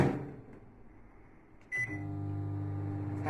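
An oven cooking tandoori chicken starts up: a quiet hum, a sharp beep-like click, then a steady close electrical drone with a tonal buzz running evenly to the end.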